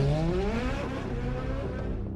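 A Ferrari F430 sports car drives past with a loud, close engine note, its revs sliding downward as the tone fades out at the end.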